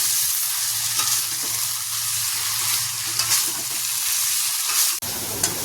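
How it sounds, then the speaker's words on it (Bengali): Cubed paneer fries in a pan for ghugni, giving a loud, dense, continuous sizzle with a low steady hum underneath and a brief sharp clank near the end, close up with no voices. "পনিরটাকে আবার কেটে ভাজতে হবে"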